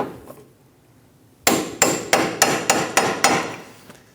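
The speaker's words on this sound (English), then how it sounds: "Using a hammer and a punch, we're going to stake our axle nut" After a quiet pause, a hammer strikes a punch nine times in a quick, even rhythm, staking an axle nut on a 2008-2015 Scion xB front hub, each tap sharp and ringing, close by.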